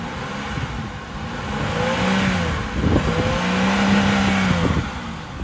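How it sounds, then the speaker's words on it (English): A 2005 Chevrolet Impala V6 engine revs up twice in close succession, rising and falling in pitch, loud and close, with no voices. "He'll rev it up a little bit for you."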